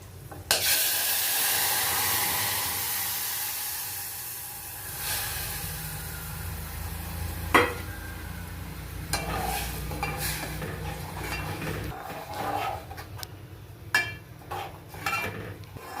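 Gravy poured into hot oil with asafoetida and whole garam masala for a Gujarati mixed vegetable sabji, a loud steamy hiss at first that fades, then scattered scraping and clinking stir strokes in the pan, close and unaccompanied.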